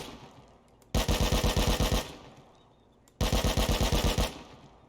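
An AK rifle fitted with an attachment fires in the survival game Rust: two loud full-auto bursts of about ten evenly spaced shots each, separated by a short quiet gap, close and clear.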